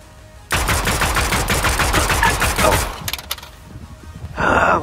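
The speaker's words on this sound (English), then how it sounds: "Why does this pistol have to be rapid fire?" Rapid pistol fire in a video game, a fast burst of close, loud shots rattling for over two seconds before thinning out, with a brief blast near the end.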